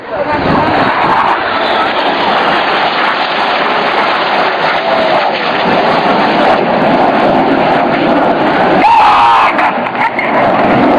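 Red Arrows jets fly a corkscrew display manoeuvre at an air show, trailing red and blue smoke, making a continuous loud roar that swells slightly as they pass, while a commentator talks throughout.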